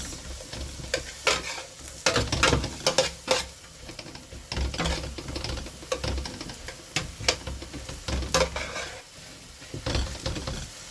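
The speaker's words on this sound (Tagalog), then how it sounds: "Saingin natin yung kamatis para maglabas ng katas." Chopped tomatoes sauté in a hot pan for pork sinigang, with a continuous sizzle under repeated clanking scrapes of a utensil stirring against the metal, close and fairly loud.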